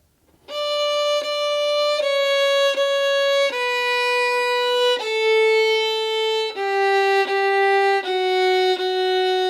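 A violin plays a slow series of long sustained half notes with a slow, long bow, each held evenly before moving to the next pitch, clear and close.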